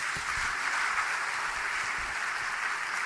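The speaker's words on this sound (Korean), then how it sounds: "다시 한번 주의 뜨거운 영광의 박수 원합니다" Steady, dense applause from a church congregation at a Sunday evening service, a continuous wash of many hands clapping with no voices over it.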